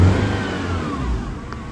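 A misfiring car engine revs with a rough, uneven sputter, a brief close burst of engine noise with no voices.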